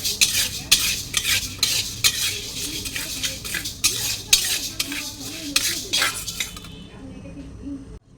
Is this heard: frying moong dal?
yes